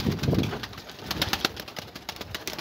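Pigeons in a coop that a cat attacked coo close by in soft, repeated low calls, with light rustling and fluttering between them.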